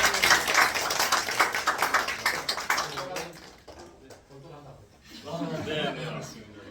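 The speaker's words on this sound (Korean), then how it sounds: "저희 질문 많이 받은 졸업생들하고 재학생들한테 박수 한번" An audience at a Seoul international high school event applauds graduates and current students with dense, lively clapping for about three seconds, and then people talk.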